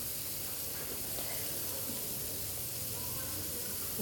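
Spice paste sizzles steadily in hot oil in a pan just used to fry tilapia, a constant close hiss with no clear pauses.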